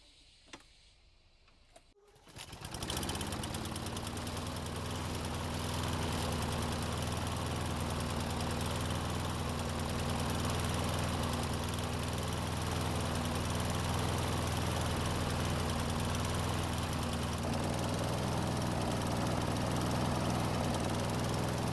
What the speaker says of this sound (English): I want to try and start it again and see if it made any improvements to the engine speed